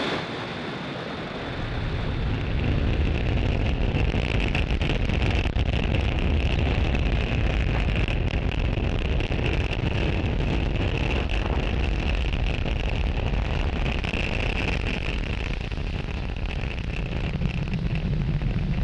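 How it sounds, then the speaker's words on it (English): SpaceX Falcon 9 rocket lifting off from Space Launch Complex 40 at Cape Canaveral, Florida: a steady, loud, distant roar with heavy low rumble and a wind-buffeted crackle, sustained for many seconds. "Falcon 9 has successfully lifted off from Space Launch Complex 40 from Cape Canaveral, Florida"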